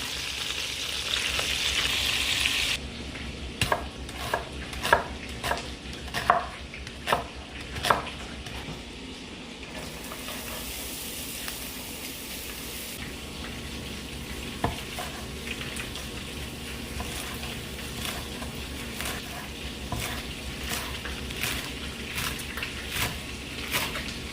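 Chicken spinach burgers fry in a pan, a low steady sizzle running throughout, with a burst of utensil taps and clinks early on as they are flipped, then quieter frying alone.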